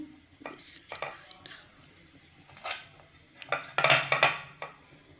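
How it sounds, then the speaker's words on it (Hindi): A knife crunches through a wrapped burger in several short, crisp cuts, with quiet clinks of a plate and someone speaking softly in between. "ये मैं आपको काट के दिखाती हूँ"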